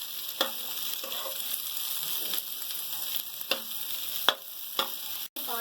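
Half a kilo of okra (bhindi) frying in a pan for bhindi masala, giving a steady hiss with occasional sharper pops and spatula clicks. It sits fairly close, with no talk.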